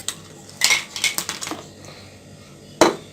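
Hard little clinks and rattles as ice cubes tumble into a bowl of cold water, a quick cluster of hits followed by a pause and one more clatter.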